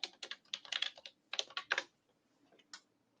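Quick bursts of key presses on a computer keyboard during sign-in, rapid clicking clusters close by, then a pause and a few scattered final taps; no talking.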